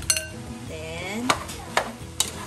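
Ham fried rice being stirred in a pan, with soft scraping and a few sharp utensil clinks against the metal over a faint background sizzle, close and fairly quiet.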